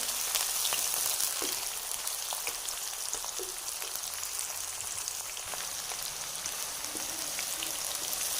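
Two onions fry in half a cup of hot oil for a cauliflower kofta masala, with a steady, loud, close crackling sizzle, dense and even throughout and without pauses.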